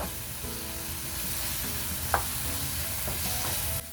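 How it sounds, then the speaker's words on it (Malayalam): Ripe plantains sautéing in a hot pan give a steady, close sizzle and fry crackle for the whole stretch, with a few clinks of a stirring utensil against the pan. "ഏത്തപ്പഴം ഞാൻ നന്നായിട്ട് വഴറ്റി എടുത്തിട്ടുണ്ട്."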